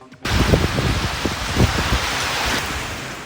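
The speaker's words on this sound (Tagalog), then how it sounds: "Ramdam ang malakas na hangin na may kasamang pag-ulan sa Batanes kaninang umaga." Strong typhoon wind and rain sweep over Batanes, a loud steady roar of gusting wind buffeting the microphone with rain noise throughout.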